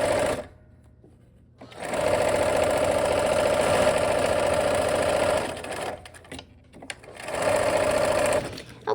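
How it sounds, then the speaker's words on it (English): Sewing machine stitching quilt end sections, two long runs of fast steady motor whir broken by short quiet pauses, close and loud. "So we're gonna take these little end sections and sew those on to the"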